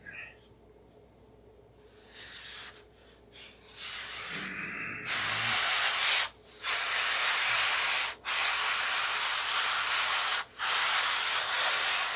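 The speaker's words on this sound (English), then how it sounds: "I don't know why this tip won't sand quite right." Someone sands the tip of a balsa stabilizer for a Sig Magnum model airplane, producing long, loud, close, hissing sanding strokes with brief pauses between them, plus some softer rubbing early on.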